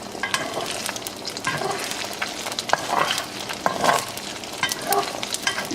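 Eggs with black pepper fry in a pan for Chinese beef fried rice, giving a steady close sizzle broken by scraping and stirring clatter throughout.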